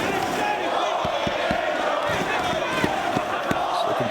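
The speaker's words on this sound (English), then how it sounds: "The crowd shouts their encouragement to Christopher Daniels." Wrestling arena crowd at a Best in the World event in New York, shouting and cheering steadily, a dense continuous roar with scattered louder yells and thumps from the ring.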